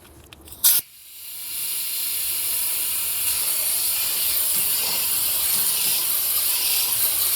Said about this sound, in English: we're pulling vacuum on the entire cooling system